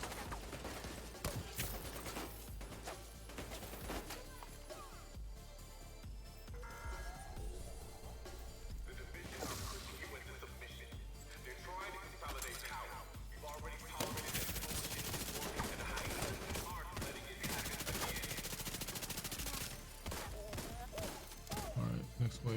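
Sniper shots and rapid gunfire crack through a video game match. The shooting is dense and continuous, with sharp repeated bursts, and a player is talking over it.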